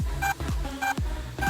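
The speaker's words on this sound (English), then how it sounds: "That's the EEC that is beeping." A DJI Mavic Mini drone's ESC beeps from a motor speed error: three short, repeated electronic beeps in a steady rhythm, with low dull thumps between them, close and fairly clear.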